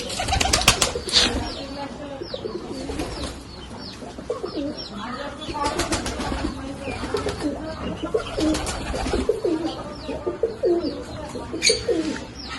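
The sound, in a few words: pigeons cooing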